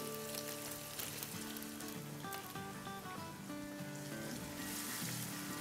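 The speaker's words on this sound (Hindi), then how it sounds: "अब यहाँ जो तेल गरम रखा था उसमें डालेंगे 8 टेबलस्पून गार्लिक कुटा हुआ, और 4 टेबलस्पून हरी मिर्चें कुटी हुई।" Crushed garlic and green chillies frying in hot oil, a large batch for chicken chow mein: a continuous dense sizzle and crackle that holds steady throughout, with no talking.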